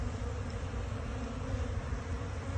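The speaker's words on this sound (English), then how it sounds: "we still have bees hanging out down there" Honeybees buzz steadily around an apiary hive fitted with double screen boards, a close, continuous drone with no talking.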